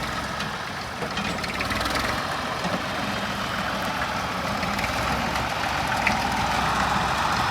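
A 70 model tractor engine labours steadily as it strains to climb a mound, giving a continuous loud, rough low-pitched drone with knocking undertones and no pauses.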